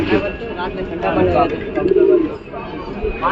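Pigeons coo softly at a pigeon seller's stall on Galiff Street, where Girebaj and Madras breeds are sold, the low throaty calls repeating under nearby chatter and bargaining voices.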